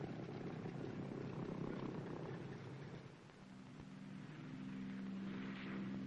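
Military cargo planes taxi and take off on a runway, heard as a faint, distant, steady engine drone with a low hum that swells slightly toward the end.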